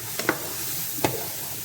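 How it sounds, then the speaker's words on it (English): Seasoned ground meat for shepherd's pie is stirred in a hot pan, a soft sizzle running underneath with a few short scraping clicks of the utensil near the start and middle. "And then we're gonna mix this around."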